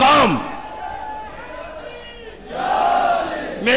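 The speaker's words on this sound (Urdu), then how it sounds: "ہاں اب آپ کے نعروں کا ٹائم ہے" Crowd at a religious majlis gathering chanting slogans in unison, a loud roaring shout at the start and again near the end, with a lower sustained murmur of voices between.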